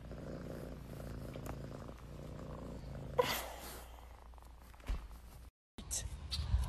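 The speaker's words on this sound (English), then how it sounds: "it's a kitty cat" A cat purrs close by in a soft, continuous rumble, briefly disturbed by a louder rustle partway through and cut by a short gap near the end.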